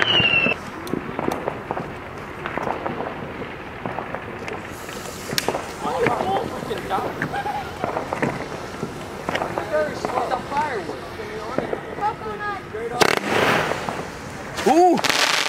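Fireworks and firecrackers going off outdoors, scattered sharp pops and crackles with whistling rises and a few louder bursts, mixed with wind noise and excited voices talking and shouting.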